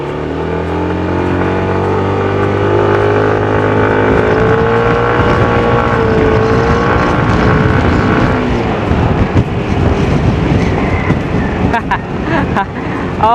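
A Yamaha NMAX Tech Max scooter engine revs hard with its turbo mode activated. The whine rises and holds, loud and close, with wind rush over the microphone and a rider talking over it.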